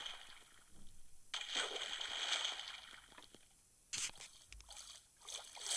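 Water sloshing and splashing as a player moves through the sea in the Minecraft video game, soft bursts of watery noise coming and going in short waves, fairly quiet.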